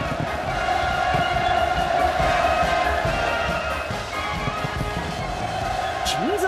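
A large crowd at an outdoor ceremony marking completion of new housing flats in Hwasong cheers and shouts enthusiastically in a dense, continuous roar, with a voice heard over it.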